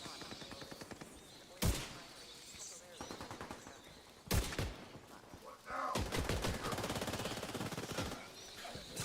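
Heavy gunfire from hostile assault turrets in The Division 2, with sharp single shots and then sustained rapid automatic bursts over a constant game-ambience bed, fairly close and loud, the firing stretching through most of the stretch.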